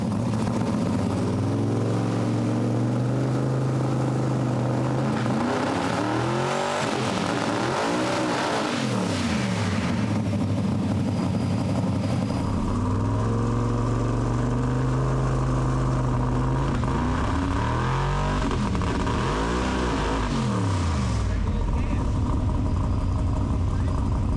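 A car engine starts and revs hard on a hub dyno, with rising and falling harmonic sweeps from repeated throttle pulls over a steady low drone, loud and close, with people talking intermittently.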